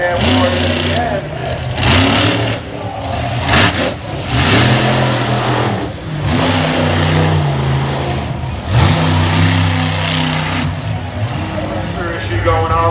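A truck engine with a mechanical issue revs hard at a freestyle event, repeated roaring climbs and drops in pitch lasting throughout, with a commentator talking over the loud engine.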